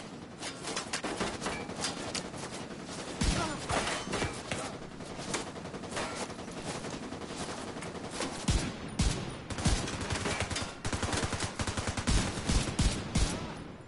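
Rifle gunfire in The Division 2, repeated sharp shots and bursts at varying intervals amid a busy firefight, loud and close.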